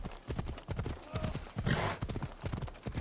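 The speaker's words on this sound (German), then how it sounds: "Wo ist denn das Pferd?" A horse's hooves clip-clopping at a gallop in the video game Assassin's Creed Odyssey, a steady rapid beat under a voice.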